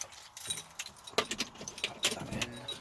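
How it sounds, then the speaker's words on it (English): Truck keys jangling close by in a short burst of metallic rattles, with faint rustling and background noise around them. "We'll get the keys to the truck."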